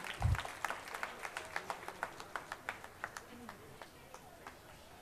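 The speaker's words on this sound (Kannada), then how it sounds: "ಜೋರಾದ ಚಪ್ಪಾಳೆ ಬರಬೇಕು." A small group claps at a steady rhythm, the individual claps distinct and fairly quiet, fading slightly toward the end.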